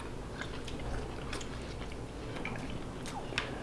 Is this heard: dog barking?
no